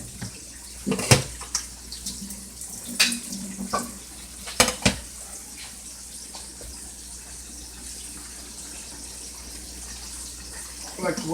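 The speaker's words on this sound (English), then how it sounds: "So I'm going to give it a good rinse." Cabbage is rinsed under running water in a home kitchen, with a steady low splash broken by several sharp clatters and handling knocks up close.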